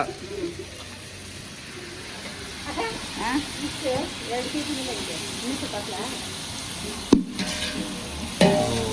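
Mint leaves stirred and frying in a pan at home, with a steady sizzle and scraping stir strokes throughout, a couple of sharp clanks near the end, and faint voices in the background.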